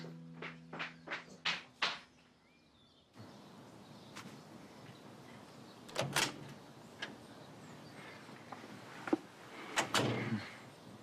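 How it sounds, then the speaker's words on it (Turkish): A door is opened indoors: a few tonal chimes come first, then quiet room noise with clicks and clunks of the handle and the door moving, fairly close and moderately loud. "Kapı."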